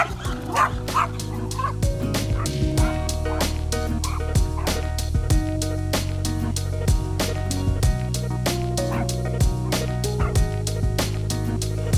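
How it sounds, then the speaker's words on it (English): A dog barks over and over in sharp, rapid yaps, close by, excited by a toy RC monster truck, with a steady low engine rumble running underneath the whole time. "if you do not like dog barking, you might just want to stop watching"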